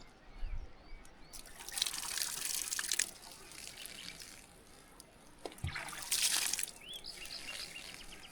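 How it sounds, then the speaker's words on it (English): Water poured down a pipe at an off-grid stone house build in Portugal gives a faint, hollow trickling and splashing in two bursts, with small knocks, heard from close by without speech. "Let me pour water down the other one so you can see."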